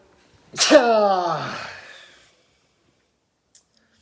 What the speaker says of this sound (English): I'm going to sneeze just a minute